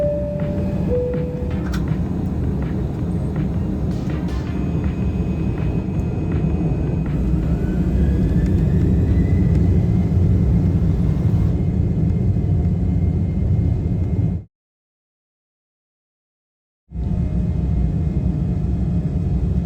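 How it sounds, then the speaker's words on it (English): Scandinavian Airlines airliner taking off on a flight to Aberdeen, a loud steady engine roar and rumble heard from inside the cabin, with a rising whine, then a brief cut to silence before the roar returns. "Taking off, we begin our 1 hour 20-minute flight over to Aberdeen."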